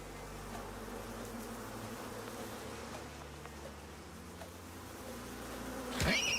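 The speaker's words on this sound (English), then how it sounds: "Stupid bees." Bees buzz steadily in a video game, a dense, continuous insect drone filling the whole stretch at moderate level, with a brief louder burst of noise right at the end.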